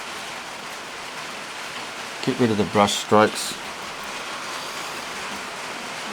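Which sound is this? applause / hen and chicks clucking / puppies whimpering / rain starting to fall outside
rain starting to fall outside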